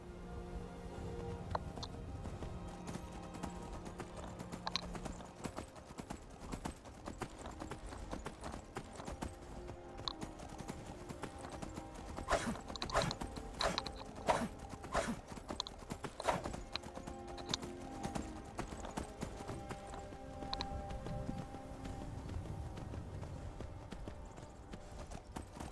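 Horse hooves clip-clop steadily in Skyrim VR, a continuous rhythmic trot close by with occasional faint neighs and a layer of game music and ambience underneath.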